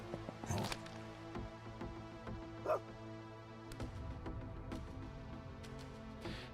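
A dog in the Tactical Breach Wizards video game lets out a few short, faint barks and yips among quiet game sounds and soft clicks, with no speech.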